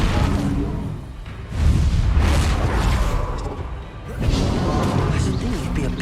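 Bombarda spell explosions in the Hogwarts Legacy video game, two loud booming blasts with crashing rumble, the second arriving a few seconds after the first, with a voice speaking over the fight.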